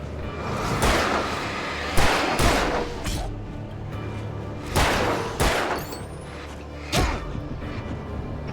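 Gunfire in Alan Wake Remastered: loud, close shots ring out in irregular bursts, each sharp blast trailing into a brief decay, with a quieter stretch between volleys.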